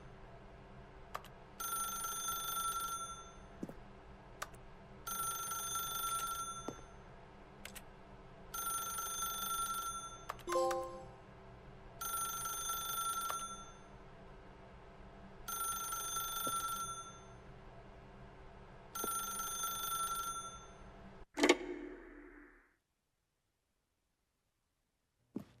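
A telephone rings in the video game The Stanley Parable, six evenly spaced bursts of bell ringing with a clatter partway through, then a clunk as the receiver is picked up and the sound cuts to silence.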